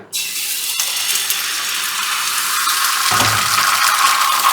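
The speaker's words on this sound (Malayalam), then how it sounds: "ഇതിലേക്ക് ഞാൻ ഒരു സ്പൂണ് എഗ് ഒഴിച്ച് കൊടുക്കണേ" Chicken omelette egg mixture poured into coconut oil on a non-stick pan, bursting into an abrupt, loud, close sizzle that continues steadily without any talking.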